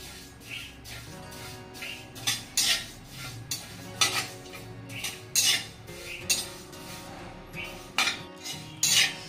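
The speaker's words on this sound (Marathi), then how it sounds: "गरम कढईमध्ये छानसे भाजले गेलेले जिरे" Cumin seeds are dry-roasted in a hot kadhai for chakali bhajni, with a spoon repeatedly scraping and clinking against the pan in quick uneven strokes, loud and close with no talking.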